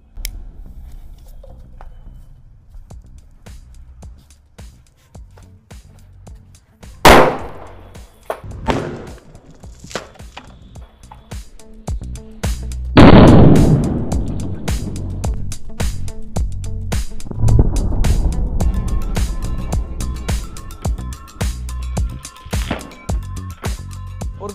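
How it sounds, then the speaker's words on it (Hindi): A firecracker inside a plastic bottle explodes underwater, a sharp muffled blast, followed by a second heavy thump and churning, splashing water; scattered knocks and rustles surround it. "गाइस यार क्या धमाका हुआ था भाई अभी अभी, हैं कितना तकड़ा फटा था यार"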